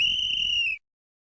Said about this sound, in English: That's the final whistle.